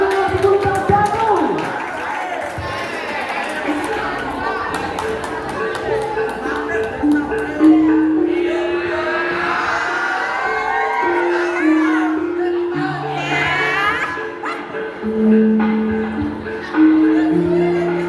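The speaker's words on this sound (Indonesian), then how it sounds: "Beri tepuk tangan untuk kelas 10 Bel Tamu." An audience at a school fashion show of traditional costumes from the Riau Islands claps, cheers and whoops for a Grade 10 class. Shouts rise and fall over background music, with an announcer's voice heard at times.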